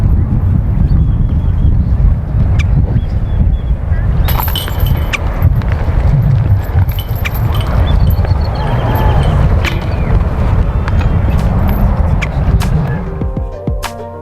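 Strong wind buffets the microphone on an open disc golf course, a loud continuous low roar with gusty swells and scattered light clatter throughout, with no clear speech.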